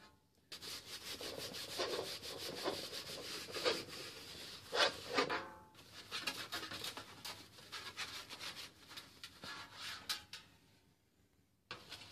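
Scrubbing the burned reflector of a kerosene heater, a faint close rubbing scrape in repeated uneven strokes, pausing briefly before resuming.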